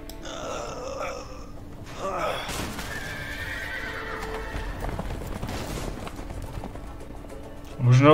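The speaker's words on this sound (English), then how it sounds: "the horses are escaping" Horses neigh and whinny as they break loose from a barn in the video game A Way Out, with hooves clip-clopping and snorting grunts over a game score, ending on a louder thump.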